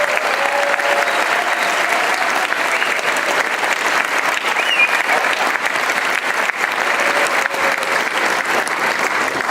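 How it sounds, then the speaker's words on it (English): A crowd at a 2019 undergraduate recognition ceremony claps for the graduates in sustained, dense applause. It stays steady and loud for the whole stretch, with no voices rising above it. "let's just have one big round of applause for all of our excellent graduates."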